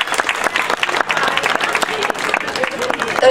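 Loud, dense crowd applause for prize winners at an Italian award ceremony, sustained steady clapping throughout with a host's voice faintly mixed in.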